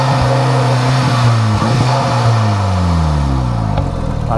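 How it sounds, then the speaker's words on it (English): A VW Scirocco R with a Revo intake revs hard, its engine note rising and falling in loud, steady sweeps close by, with no talking over it. "that's the Revo intake there"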